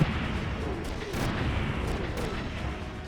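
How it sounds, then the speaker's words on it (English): Explosions in a mech combat video game, set during a prison break-in, form a dense, continuous rumble of booms and crackling bursts at moderate volume, with no speech. "do you not see the giant explosions?"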